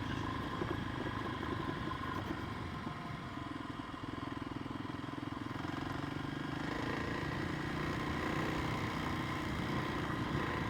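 A motorcycle rides steadily in second gear along a local loop with small hills, a path and a stream, its mid-pitched engine droning continuously and close up with no talk over it.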